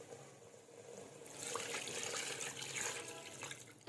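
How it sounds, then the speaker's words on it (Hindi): Water is poured into a pan of frying chicken curry, a steady hissing, sizzling splash of moderate loudness that rises and continues for a few seconds, with no voices. "तकरीबन 2 कप मैंने इसमें पानी ऐड किया है।"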